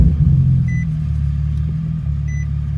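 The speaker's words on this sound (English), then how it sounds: "what you're going to want to do is go ahead and crank up the car" A Nissan 370Z engine runs with a steady, loud, low rumble close by. Two short electronic beeps sound over it partway through. No clear cranking is heard.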